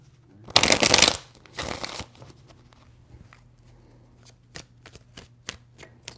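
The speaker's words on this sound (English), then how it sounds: "Three shuffles." Tarot cards shuffled in two brisk riffling bursts up close, followed by a series of soft, sparse taps and clicks as the deck is squared and handled; no voices.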